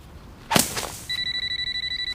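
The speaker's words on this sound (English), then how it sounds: "Phone." Telephone ringing indoors, a steady electronic trill repeating in quick even pulses right after a sharp knock or thump, fairly close and alone.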